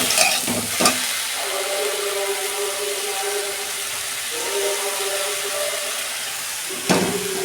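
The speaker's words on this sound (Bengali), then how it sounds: "সবজিগুলো আমি নুন দিয়ে ভেজে নিচ্ছি।" Vegetables fry with salt in a pan for a home-style fish recipe, giving a steady close sizzle with faint stirring scrapes and a couple of sharper clatters near the start and end.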